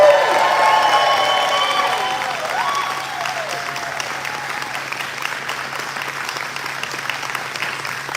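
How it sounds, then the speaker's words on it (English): Audience clapping and screaming at an Air Force retirement ceremony, loud sustained applause with high cheers and whoops that gradually fade into scattered claps. "So clap and scream"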